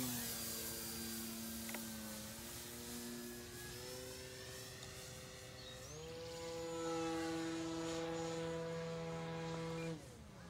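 The electric motor of an E-flite Timber X RC plane, faulty in flight, gives a faint, distant whine that slides in pitch as the plane flies low and slow, heard alone with no talk.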